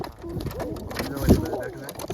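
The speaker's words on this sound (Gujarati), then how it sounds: "તો આમાં તો અત્યારે 2 કબૂતર બેઠા છે" Pigeons cooing nearby in low, soft, throaty calls, with some background voices and outdoor noise around them.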